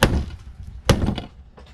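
Hand cutters snap through scrap brass pipe against copper, giving two sharp, close metallic crunches with faint rustling between them.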